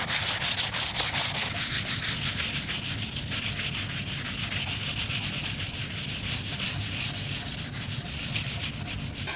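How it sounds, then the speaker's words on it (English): Steady rhythmic scraping of a 220-grit sanding block rubbed back and forth by hand, close and continuous with no talking. "just sanding that. And then I've got another block, a little bit finer."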